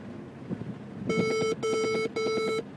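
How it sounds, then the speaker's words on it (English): Three sharp electronic lane-change warning beeps from a Ford car sound in a steady rhythm, each a short burst of bright tones, loud over faint road rumble. "As soon as we put our turn signal on, it beeps at us"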